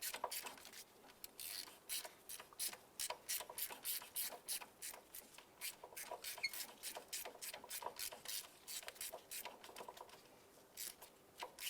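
A ratchet wrench backs a stud out of a 2011-2019 Ford Fiesta engine during intake manifold work, a steady rapid train of close, crisp clicks in repeated bursts, with no talking.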